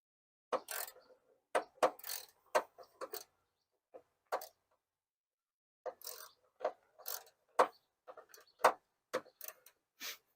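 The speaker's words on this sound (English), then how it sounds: "Take this screw out." A screw is backed out of a 2006 Chevrolet Impala headlight assembly with a hand tool, giving sparse clusters of small ratcheting clicks close up, separated by pauses.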